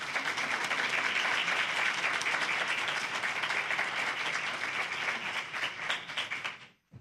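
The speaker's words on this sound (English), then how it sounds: "will you all please give a huge round of applause" A crowd applauds loudly and steadily for several seconds, the clapping thinning out and stopping at the end.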